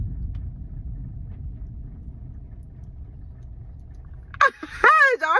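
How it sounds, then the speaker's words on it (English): Distant thunder rumbling low and steady for several seconds during rain, fading before a voice begins speaking near the end. "Did y'all hear that thunder?"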